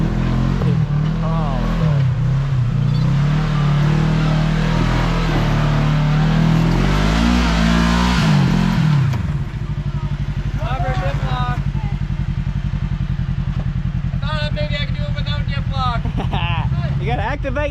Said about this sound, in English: Next up is Courtney in the Kawasaki KRX 1000 on 32-inch XTR 370s.